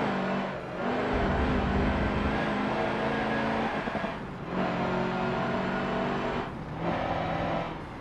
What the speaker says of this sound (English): the diesel noise and turbo spooling with the diesels.